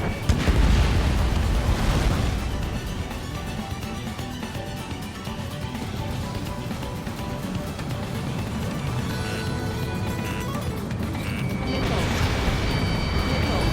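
A jet aircraft in the Ace Combat 7 flight game is struck by a missile and explodes, opening with a loud blast and crash followed by a sustained roaring, rumbling wash of fire and engine noise that swells again at the end.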